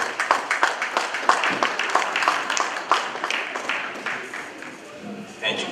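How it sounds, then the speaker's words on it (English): Applause from guests at an annual sports-coaching banquet, a dense patter of hand claps filling the room steadily and then thinning toward the end. "A good round of applause for him,"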